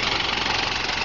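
A truck engine said to run on hydrogen from water runs steadily at idle, a close, continuous mid-pitched rumble with a faint knocking texture and no voices.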